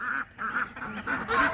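Ducks in a garden with waterlogged ground give repeated nasal honking quacks in short bursts, several calls close together and fairly loud, with no talking over them.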